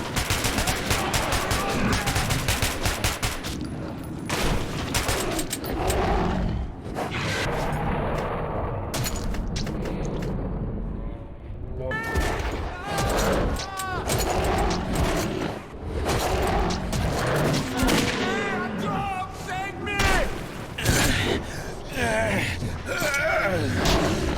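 Video game gunfire from Metro 2033 Redux: dense, rapid bursts and volleys of shots crackle continuously alongside shouting combat voices and chaotic effects.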